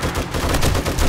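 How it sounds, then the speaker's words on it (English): Auto turrets fire rapidly in 7 Days to Die with the Darkness Falls mod during a horde night, making a dense, continuous rattle of close gunfire that fills the whole moment without a break. "You can hear the auto turrets kicking in."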